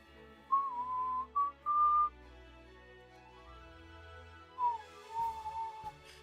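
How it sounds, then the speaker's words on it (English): Two bursts of clear, steady whistling, a few tones held then a short gap, then a second wavering phrase, with quiet background hum. "Can you hear my whistling?"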